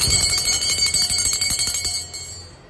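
A large brass bell rings in rapid repeated strikes, bright and close, with ringing overtones fading quickly at the end, at an exhibition stall.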